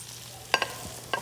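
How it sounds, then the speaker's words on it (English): Steak and eggs frying in a pan on a breakfast line, with a low steady sizzle broken by a few short clattering stirs and scrapes, close and moderately loud, with no talk. "Hear that sizzle?"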